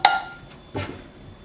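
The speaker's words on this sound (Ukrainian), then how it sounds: "Все розмішуємо" A sharp clink of a spoon against a bowl while stirring a yeast, sugar and water mixture for bread, then a softer scraping swirl about a second later, quiet and close.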